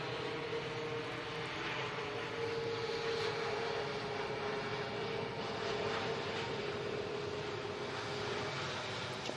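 An Airbus A321neo airliner at Manchester Airport gives a steady, loud jet engine roar with a sustained tonal hum, continuous throughout without pause.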